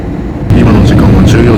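Steady roaring airliner cabin noise in flight, a dense low engine and air rumble throughout, with a person speaking close over it.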